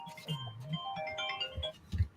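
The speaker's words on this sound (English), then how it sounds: "my phone's ringing" A mobile phone ringtone plays, a short melodic tone pattern ringing quietly in an indoor room.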